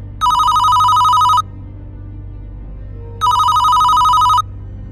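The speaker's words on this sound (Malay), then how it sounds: "telefon berdering lagi" A telephone rings twice, two long electronic trills separated by a pause, over a low steady room hum.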